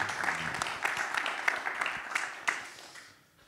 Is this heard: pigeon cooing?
no